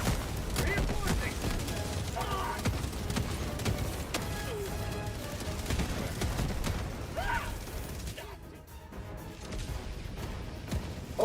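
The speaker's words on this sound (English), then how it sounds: "Oh, it was a Gatling essentially. That's what killed me." A Gatling gun fires rapidly in a video game, dense crackling bursts mixed with mechanical clatter and explosions, loud and continuous throughout.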